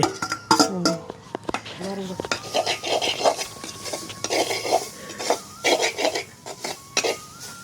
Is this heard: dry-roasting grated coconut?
yes